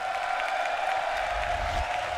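Crowd at the Tekken World Tour Finals 2018 grand finals applauding and cheering, a steady roar of clapping beneath a sustained tone, with a little talk mixed in.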